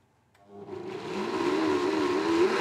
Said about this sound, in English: And blend on a fast speed.